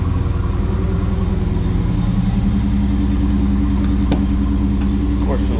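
A 2022 Dodge Challenger engine idling while warming up for its first oil change, a steady low rumble close by that holds evenly throughout with no revving.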